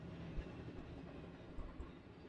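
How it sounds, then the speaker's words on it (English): A train rumbles past in a video game with a steady, low, continuous roar and faint clattering, moderately loud and without talk. "I just realized the weird proportions of that train."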